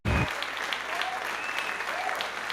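A burst of applause, steady dense clapping from a crowd that starts abruptly and continues evenly throughout.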